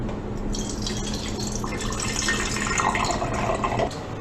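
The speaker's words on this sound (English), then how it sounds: "pour about 100 milliliters of water into the can" Water poured into an empty can, a close continuous stream that splashes and gurgles and shifts in pitch as the can fills, heard alone.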